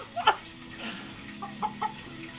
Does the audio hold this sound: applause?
no